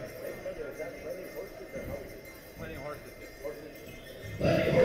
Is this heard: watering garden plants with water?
no